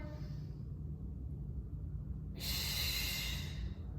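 Slow yoga breath, a soft steady exhale giving way to a brighter, hissing inhale or exhale through the nose and mouth, close and quiet with no talking.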